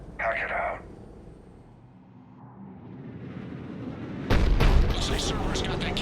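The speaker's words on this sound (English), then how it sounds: "Looks like Cerberus got that cannon operational" A Cerberus cannon in Mass Effect 3 fires artillery: a short burst opens the clip, and after a rumbling lull a heavy blast hits near and loud, followed by crackling debris and a sustained roar.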